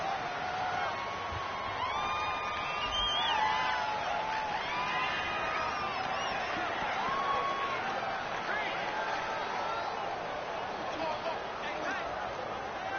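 Stadium crowd at a football video game, a dense steady roar of cheering and whooping fans filling the air for the whole stretch, with no clear voices above it.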